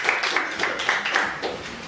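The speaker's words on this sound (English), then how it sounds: "Let us give a round of applause to Toastmaster Rhys Palaganas." Applause at a Toastmasters club meeting comes as a short, fairly faint burst of clapping from a small audience, with uneven claps and some voices in the room.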